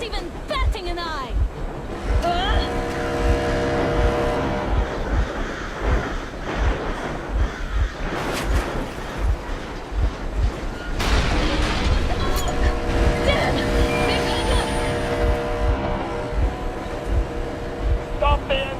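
A boat engine runs in the video game Metro Exodus, giving off a steady, rhythmic low thumping mixed with water wash. A voice speaks over it for much of the stretch.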